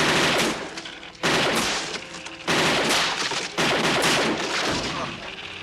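Bursts of rapid gunfire from the gun in the 1987 film RoboCop, four loud sustained volleys separated by brief gaps, backed by music.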